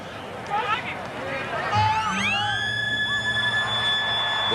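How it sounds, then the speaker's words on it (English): A loud, sustained full-time siren at a rugby league stadium wails over a crowd's noisy cheering and babble, its rising tone settling into a long steady blast. "Really praying for that siren."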